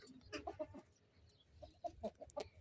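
Young village chicks cluck softly in a few short, scattered bursts, faint and close, with quiet gaps between the calls.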